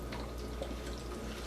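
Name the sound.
water being poured into seed-starting soil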